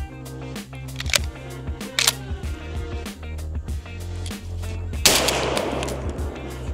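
Panzer Arms M4 shotgun firing with malfunctions, a run of sharp metallic clacks and action cycling at an uneven pace, then one loud blast with a lingering noisy tail, close to the microphone.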